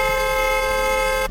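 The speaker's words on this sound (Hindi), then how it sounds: "उसने तुरंत अपने पति से हॉर्न बजाने को कहा" A car horn on a highway gives one loud, steady, unbroken honk with a buzzy tone, held for just over a second and then cut off.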